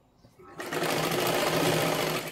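A sewing machine stitches along the edge of a boat-neck katori blouse lining. After a quiet start it breaks into a loud, continuous whirring hum that runs to the end.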